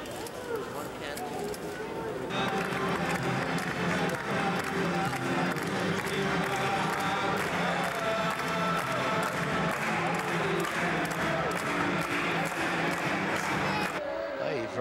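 A large audience at a Chanukah event in Cairo, Egypt, cheers and claps in a dense, steady roar that jumps up after a quieter opening and stays loud before cutting off near the end.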